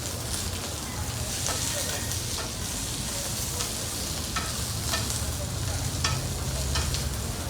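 Four bunches of celery leaves wilting in a hot pan, a dense continuous sizzle and crackle with occasional clicks of stirring, heard close with a voice speaking quietly beneath.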